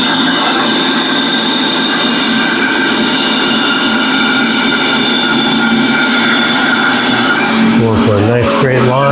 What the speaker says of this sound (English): the key to getting a straight line cut on your bandsaw is keeping it in place